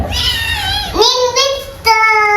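A cat gives a few drawn-out, wavering meows up close in a home setting, each cry rising and bending in pitch, loud and clear over a low background rumble.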